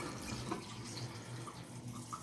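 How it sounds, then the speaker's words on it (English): Water poured into a cooking pot of banana heart for boiling, a steady running splash held at an even level throughout, close by and with no voices. "And then you add some water"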